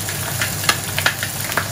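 Chicken pieces frying skin-side down in a hot pan, a steady close sizzle with a few sharp pops and spits breaking through at irregular moments.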